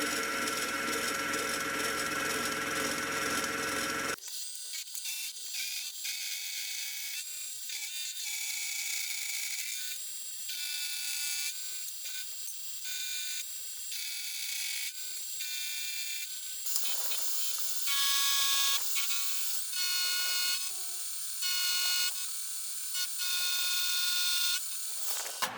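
Steady high-pitched mechanical whine of a milling machine removing excess metal stock from a lathe cross slide part, continuous and close, with intermittent chattering bursts in the latter half.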